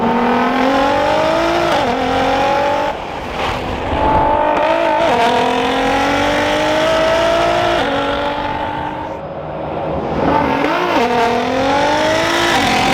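A loud Bugatti Veyron engine revs and accelerates repeatedly, pitch climbing through gear changes with brief dips between shifts, close and continuous.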